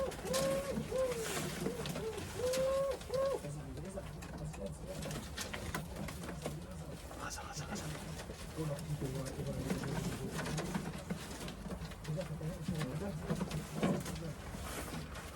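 Pigeons and wood pigeons coo in a low, repeated, droning pattern at moderate distance, with other noise mixed in, on a wood pigeon hunting outing.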